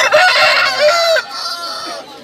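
At a street pet market in Kolkata, a rooster crows loudly and close by while chickens cluck around it, with the crow trailing off into softer, higher calls.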